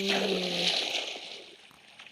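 Water splash as a character falls into a waterfall in the Minecraft video game: a steady, fairly loud rush of splashing and sloshing that slowly fades over about two seconds, with a brief tonal game sound at the start.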